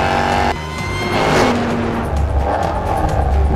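Jaguar XE Project 8 V8 car accelerating hard, a loud, continuous engine roar with rising pitch, heard from inside the cabin with no talk over it.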